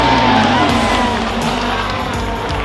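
Dense, loud crowd roar and cheering at the sold-out Australian Grand Prix F1 race in Melbourne, close and continuous, with shouting voices mixed in.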